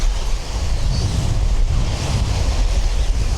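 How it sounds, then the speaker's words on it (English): Strong wind buffets the microphone over crashing surf on a beach, a loud continuous roar with the rumble of breaking waves and no speech. "The wind's picked right up."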